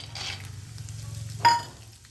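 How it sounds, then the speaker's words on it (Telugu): Peanuts frying in hot oil, a quiet steady sizzle with one brief clink or splash near the middle, close and without talk. "వేడైన ఆయిల్లో ముందుగా పల్లీలు వేసుకుందామండి."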